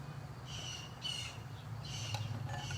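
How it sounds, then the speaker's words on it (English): Several crows caw outside in repeated bursts, moderately loud over a steady low background hum, with a few sharper calls near the end. "All the crows are getting like super loud."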